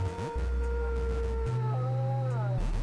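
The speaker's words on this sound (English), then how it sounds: "So the howling going on right now is the dog belonging to the master." A dog howls in the Manos: The Hands of Fate video game, long sustained wavering howls with sliding pitch over a loud low musical drone, fairly clear and alone with no talking.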